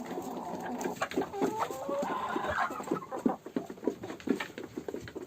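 Hens cluck and chatter close by as they drink from a water container in a cold farmyard, their soft overlapping calls mixed with light pecking taps.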